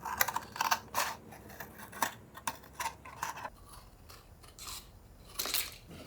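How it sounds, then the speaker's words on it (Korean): Scissors snip through the side of a rinsed paper milk carton in a series of crisp, uneven cuts with short pauses between them, close and fairly quiet, with no talking. "일단 우유팩의 한 면만 오려내 줍니다."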